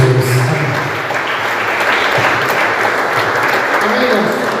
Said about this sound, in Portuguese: E as palmas engrandecem o nome de Jesus.